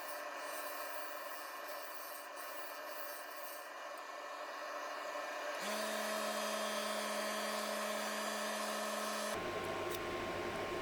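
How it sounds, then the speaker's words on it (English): A power sander with small sanding discs runs against a wooden bowl, a steady high whine with gritty rubbing that shifts pitch and grows louder partway through, then changes again near the end. "Sanding, I sanded from 80 grit up to 400 grit."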